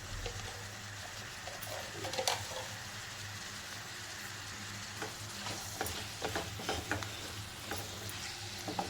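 Onion, tomato and ginger-garlic paste are being sautéed over high heat in a pan, giving a soft, steady sizzle broken by scattered scraping stirs, fairly quiet and without any talking.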